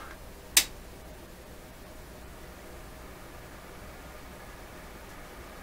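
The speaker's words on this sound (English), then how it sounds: "if you heard a hiss come up, that's not the radio, that's actually a cooling fan in the power supply" A faint, steady broadband hiss from the cooling fan in a power supply used with a Crosley 43FB farm radio runs throughout, interrupted once early by a sharp click.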